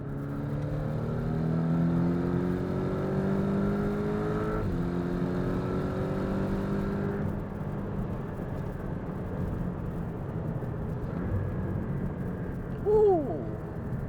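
A Porsche 718 Boxster in sport mode accelerates hard, its engine note climbing through a long pull before a gear change and easing off; near the end a short voice cries out.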